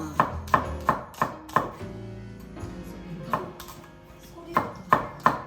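A Chinese cleaver chops food on a board with sharp, close, ringing knocks. A quick run of five strokes comes first, then a pause with soft background noise, then a few more chops.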